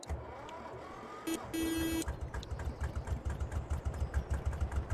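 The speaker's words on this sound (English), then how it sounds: "Wait for the engine to rev up there." Tractor engine in the farming video game Farming Simulator 22 idling with a mechanical whine, then revving up into a loud, pulsing throb that stays near and steady.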